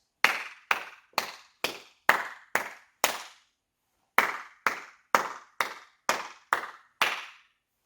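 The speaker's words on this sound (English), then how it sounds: "If we clap the rhythm and think those words" Hands clap out a short children's song rhythm in two phrases, sharp close claps with a quick pattern, a pause of about a second, then more claps in the same uneven rhythm, with no voices.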